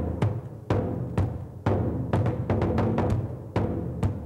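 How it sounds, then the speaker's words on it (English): A big, deep surdo drum pounds out a syncopated samba rhythm, booming strokes spaced unevenly with quicker clusters, close and alone. "This instrument here, very big, is called the surdo"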